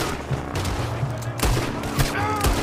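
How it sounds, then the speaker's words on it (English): Rapid gunfire crackles during a shootout in the video game Red Dead Redemption 2, with a dense fusillade of overlapping shots, some sharper bursts standing out against a busy game background. "Wait, who's firing at them?"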